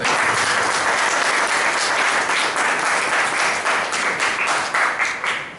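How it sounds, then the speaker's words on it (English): A round of applause rises from members and guests at a club meeting, a dense, continuous wash of many hands clapping close by that holds steady, then thins toward the end. "he deserves a big round of applause"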